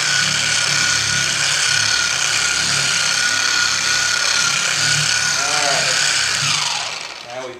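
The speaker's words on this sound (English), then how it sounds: "Set the polisher to the 2." A car paint polisher running steadily at speed setting 2 while compound is worked over the panel, a loud, close continuous whine and buzz that winds down at the end, with a person speaking briefly.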